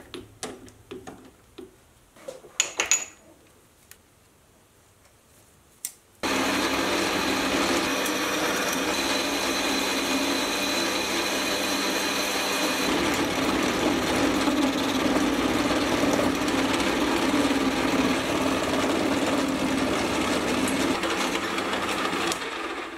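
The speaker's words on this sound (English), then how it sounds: "it's back to the lathe to bore out the recess for the button die." A metal lathe boring out the recess for a button die in a die holder: a few light clicks at first, then a loud, steady whirring machining drone with a faint tonal whine that runs unbroken to the end.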